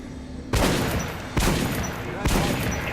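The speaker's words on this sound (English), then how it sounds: "Head over to my range and try out those guns" Gunfire at a shooting range in the video game Metro Last Light: three loud single shots about a second apart, each with a long echoing tail over constant background noise.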